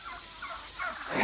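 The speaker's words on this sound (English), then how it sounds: "You gotta water the ducks." Ducks calling close by in a backyard pen, a short burst of honking, gobbling-like quacks that rise and grow louder toward the end, with no talking over them.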